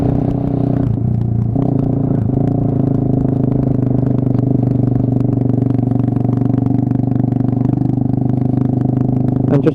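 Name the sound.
Suzuki Marauder motorcycle engine chugging along in third gear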